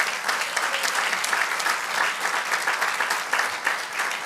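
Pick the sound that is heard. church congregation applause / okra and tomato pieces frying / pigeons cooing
church congregation applause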